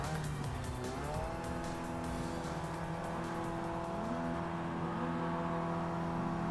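An MX5 Cup race car launching at the green flag in iRacing at VIR, its engine droning steadily and rising in pitch through gear changes, with other cars roaring close around it and a constant loud engine wash.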